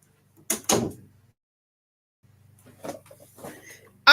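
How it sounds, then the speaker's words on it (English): An indoor door is handled and pushed shut: two quick knocks and rattles, a pause, then a few more clunks and a final louder thud as it closes, with no talking. "Let me close the door."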